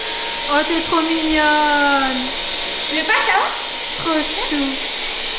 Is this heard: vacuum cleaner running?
yes